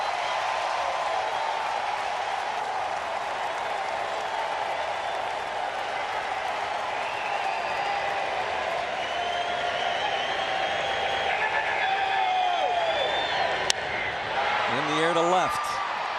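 Large baseball stadium crowd roaring in a steady, dense wash of cheering and applause throughout, swelling slightly toward the end, with whistles and a brief sharp crack near the close.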